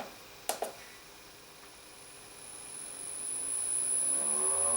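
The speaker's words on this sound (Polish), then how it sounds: "To jest niezgodność faz i ten silnik będzie się teraz grzał." A three-wire single-phase motor on a solar tracker hums from a phase mismatch with a steady tone that swells gradually over a few seconds, following two sharp clicks at the start.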